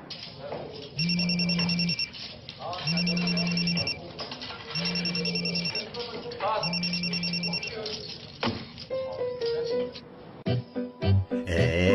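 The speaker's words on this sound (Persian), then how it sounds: "بچه تلفن ها رو بردار" A telephone rings in four regular bursts of electronic trilling, loud and clear, then gives way to other sounds and a brief musical passage at the end.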